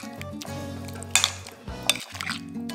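Paneer is stirred into a marinade in a bowl: a spoon clinks and scrapes against the bowl in short, close bursts, with brief pauses between strokes.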